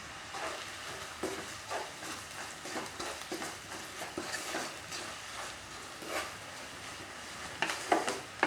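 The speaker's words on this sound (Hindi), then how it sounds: "लगभग आधे मिनट तक हमने सारे मसालों को तेल में पकाया है।" Spices stirred while frying in oil in a pan for aloo paratha filling, a faint steady sizzle with soft scraping and clinks of the spoon against the pan.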